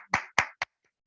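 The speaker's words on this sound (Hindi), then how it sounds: "तो मैं चाहूंगा इनकम पार्ट के लिए एक जोरदार ताली" A few sharp, close hand claps in a quick uneven burst, three distinct slaps then silence, at a business plan presentation.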